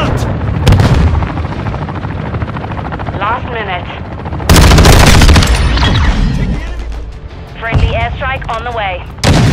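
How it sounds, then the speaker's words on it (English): Video game combat with artillery-like blasts and gunfire around a friendly cruise missile strike, loud booming bursts and rattling shots, with radio-style voices speaking between the explosions. "friendly cruise missile approaching target"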